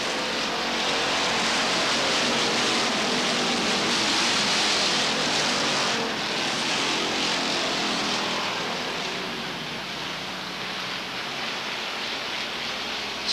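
Stock cars race at Beech Ridge Motor Speedway, a loud, continuous roar of engines that swells and fades slightly as the pack passes, with no talk over it.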